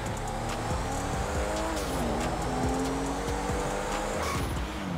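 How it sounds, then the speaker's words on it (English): Cars racing fast in GTA 5, engines roaring and shifting pitch continuously with tire squeal and skids, loud and dense throughout with no talking. "It sounds like we're doing some serious driving."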